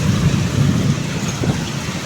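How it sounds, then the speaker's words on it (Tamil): Steady, dense rain with hail hisses loudly and continuously in hilly country, with a low rumbling undertone beneath it and no voices. "மலைகள் எவ்வளோ பெரிய மழை எப்படி அடிக்குன்னு பாருங்க"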